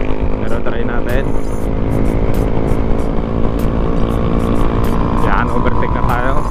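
A stock 2021 Honda Click 125i scooter accelerating on the road, its engine droning loud and steady close by with a dense, constant hum and some wind, while someone talks over it.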